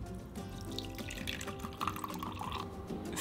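Water poured into a makeshift container sealed with glue during a leak test, a steady close trickle and splash that runs throughout with some dripping.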